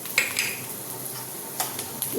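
A spatula stirs a spice tempering for lemon masala rice in a hot pan, with soft scraping and light sizzling plus a few clinks of metal against the pan.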